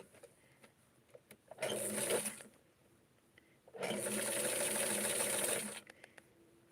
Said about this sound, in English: So I'm just going to do a very easy straight stitch.